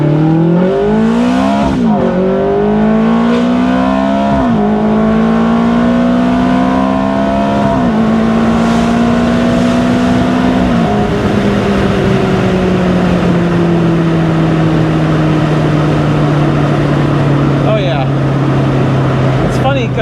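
A 2007 Ferrari F430 Spider at full throttle, its loud engine climbing through the revs in several gear shifts before settling into a steady high-speed drone, with a voice talking over it.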